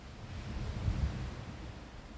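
Ocean surf washing onto a beach in Phuket, Thailand, a steady low rumble of waves with wind noise on the microphone, swelling briefly near the middle and staying fairly soft throughout.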